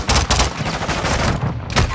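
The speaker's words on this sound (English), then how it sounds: "Let's see what we can do with these pistols." Rapid pistol gunshots in the video game Modern Warfare II, a dense loud volley of cracks firing steadily across the span with a few sharper bursts standing out.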